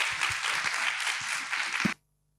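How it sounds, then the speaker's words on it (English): Conference audience at a Lithuanian-Ukrainian forum applauding its panelists, a brief burst of dense clapping that cuts off abruptly. "let's give them a round of applause to say thank you"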